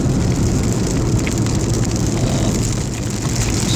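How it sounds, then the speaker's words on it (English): Outdoor rain falls steadily across flat open country, a dense, even hiss of drops on surfaces, fairly loud and continuous with no speech. "Starting to rain out here"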